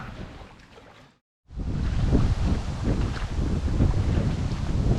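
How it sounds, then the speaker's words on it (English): Strong wind at a lake buffets the microphone in heavy, rumbling gusts, briefly cutting out before roaring back louder and continuing steadily. "it's still very windy over here"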